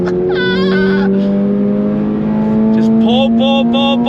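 A 2023 Toyota GR86 with six-speed manual revs hard, its exhaust note rising and holding as a steady close, loud engine drone with shifting pitch.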